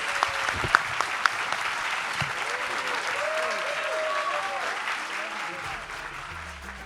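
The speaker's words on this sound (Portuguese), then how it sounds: "um agradecimento e aplausos muito especiais para Lázaro e Ronilson" A live podcast audience applauds warmly at the end of a recording. The clapping is steady and full for several seconds, a voice speaks over it, and then it fades away.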